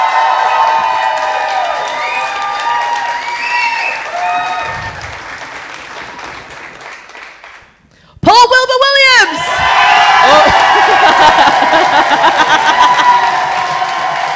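A crowd at a contest gives a round of applause for the winner, with steady clapping and some cheering that fades, then bursts back loudly and continues, with someone talking over it.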